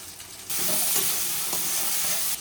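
Onion, tomato and spice paste with garlic and ginger paste and chili powder fries in a pan, giving a loud, close, steady sizzle that starts abruptly and carries on with faint stirring scrapes, with no talk.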